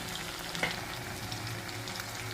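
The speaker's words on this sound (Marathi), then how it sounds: "हे बघा चांगला असं चटकट चटकट होऊ राहिलेलं आहे" Tomato masala crackling in a pan for a dry drumstick (shevga) curry, a steady close fizzing sizzle with a small pop near the start.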